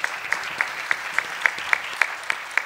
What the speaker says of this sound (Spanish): El aplauso, muchas gracias.